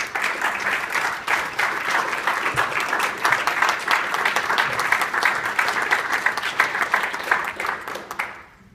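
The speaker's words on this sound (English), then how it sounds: "only because you clapped, I'm going to say it again" An audience at a provincial cycling network announcement applauds in sustained, dense clapping that holds steady for several seconds before cutting off abruptly.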